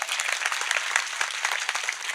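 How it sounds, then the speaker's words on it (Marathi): An audience applauding young men at a devotional kirtan gathering, dense and steady clapping from a crowd heard close up throughout. "एकदा तरुण बांधवांसाठी जोरात टाळ्या वाजवा"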